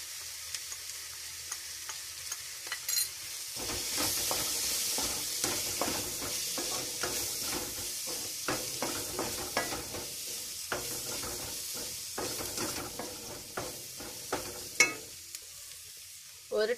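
Sliced onions sizzle in a pan for a soya chunks roast, stirred with a spoon while chili powder goes in; a steady hiss carries frequent scraping clicks, starting after a quieter opening few seconds.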